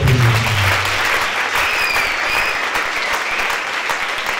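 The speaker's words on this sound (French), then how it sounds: "Acclamez très fort pour" A church congregation claps loudly and continuously at a testimony service, with a dense sustained wash of applause after a brief voice at the start.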